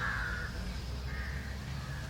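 Two crows caw in the distance during a 1974 public talk in Madras, one call at the start and another shortly after, over a low background rumble.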